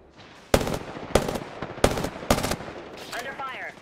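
Video game gunfire: four loud, sharp bursts of shots at roughly even intervals, followed by a brief electronic shimmer as the shot sequence ends.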